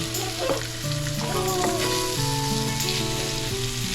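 Sliced onions sauté in a pan for pork chop bistek, giving a steady, close sizzle with stirring scrapes throughout and a soft tonal melody playing underneath.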